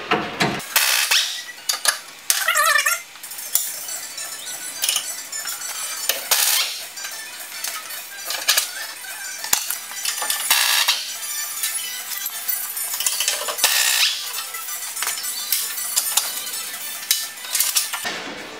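A 15 mm socket and an 18 mm wrench clink and ratchet while undoing the shock mounts on an F150, with repeated close metallic taps, scrapes and clatters in irregular bursts, no talking.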